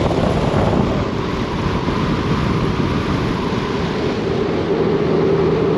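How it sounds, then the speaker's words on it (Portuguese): Loud, constant wind roar buffets the microphone, a dense low rumble with no breaks, while riding a Honda Gold Wing motorcycle with the windscreen lowered. "Estão a ver a diferença de barulho, de vento?"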